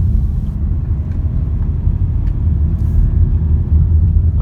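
Cabin rumble from a Škoda Karoq Style 2.0 TDI 4x4 SUV driving over rough off-road ground, a loud, steady low drone with small knocks and rattles running through it.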